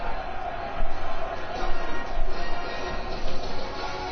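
Stadium crowd noise in the football video game Madden NFL 21, a broad steady roar with swelling boos of disapproval after a short punt bounces out of bounds, with commentary voices over it.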